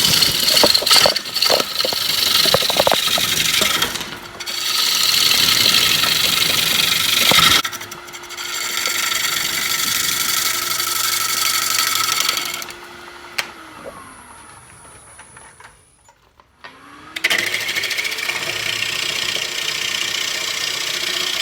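A wood lathe spins a wooden bowl blank while a gouge cuts it, a loud continuous rushing scrape with motor hum that drops away briefly near the end before cutting resumes.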